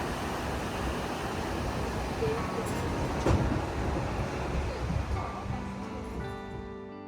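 Steady rumble and rattle of a moving train carriage near Grindelwald in the Swiss Alps, continuous and fairly loud, with a brief clunk midway and no talking.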